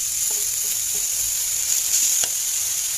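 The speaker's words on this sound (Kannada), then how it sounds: "ಆಮೇಲೆ ಚಿಕ್ಕದಾಗಿ ತುರಿದಿರೋ ಬೀಟ್ರೂಟ್ನ ಹಾಕಿ ಚೆನ್ನಾಗಿ ಬಾಡ್ಸೋಣ" Grated beetroot sautés in a pan with a bright, steady sizzle. A few soft stirring scrapes and clicks sound close by, and nobody speaks.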